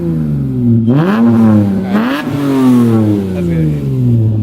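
A Mitsubishi Eclipse GT with newly fitted RRE headers revs loudly close by, its throaty exhaust note rising and falling in two sharp blips before settling into a rough idle, with someone speaking briefly.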